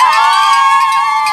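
A crowd at a high school homecoming football game, South's Falcons against Lawrence's Golden Tornadoes, roars and cheers as one loud, steady wash of voices with no break.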